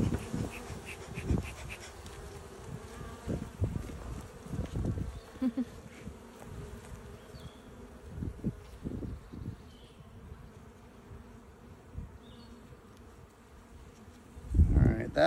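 Honey bees buzz steadily through a hive inspection, a close, continuous droning with brief louder swells as individual bees pass near, ending in a louder rustle.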